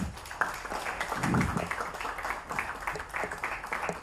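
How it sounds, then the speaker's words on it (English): At an IIT Hyderabad research and development event, an audience gives a round of applause, a moderate, somewhat muffled patter of clapping with a brief low rumble partway through. "Can we have a round of applause?"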